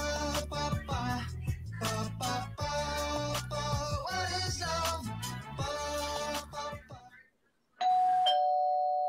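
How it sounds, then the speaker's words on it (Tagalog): A doorbell in a TV drama episode rings out loud and clear with a sustained chime tone after music fades to near silence, coming in abruptly at the end. "Oh my God, ayan ang doorbell."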